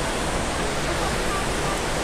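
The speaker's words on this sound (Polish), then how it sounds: "dochodzimy tuż obok do głównej atrakcji Parku Narodowego Rzeki Krka, czyli głównego wodospadu" The roar of the Skradinski buk waterfall in Krka National Park, Croatia: a dense, steady broadband rush of falling water that fills the whole clip, heard close up and loud.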